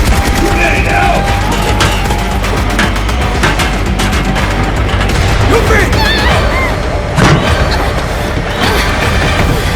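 Grenade blast and rapid gunfire in the video game Final Fantasy VII Remake Intergrade, a dense, loud battle din of bursts and booms running throughout, with game voices mixed in.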